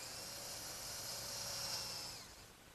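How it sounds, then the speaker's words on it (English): Power drill boring pilot holes to fasten the leaves of a wooden drop leaf table, a steady, faint high whine that holds for about two seconds before winding down. "I'll drill some pilot holes to fasten the leaves to the top."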